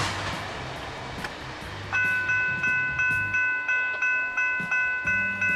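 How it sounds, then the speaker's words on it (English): A regional rail locomotive works a Florida branch line, running from Fort Pierce toward a cement plant north of Melbourne. A low rumble leads into a steady, repeating ringing clang that sounds about twice a second, loud and close. "So that's a regional rail locomotive."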